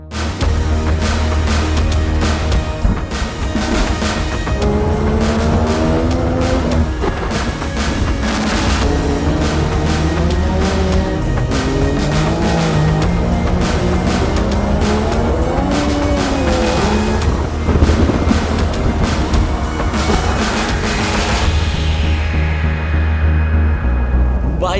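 A Legend race car drives on a wet track in the rain, its engine loud and close with a continuous roar that rises and falls in pitch through gear changes.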